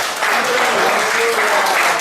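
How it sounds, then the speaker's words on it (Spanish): A church congregation clapping their hands together, a steady, dense wash of applause that stays loud and fills the whole stretch without pause. "Si yo no puedo hacer otra cosa que solo aplaudir, esto voy a hacer."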